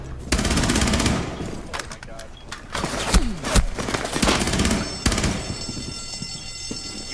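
Rapid bursts of P90 submachine gun fire in Rainbow Six Siege, several loud automatic strings with sharp individual shots over game ambience, with some talk underneath.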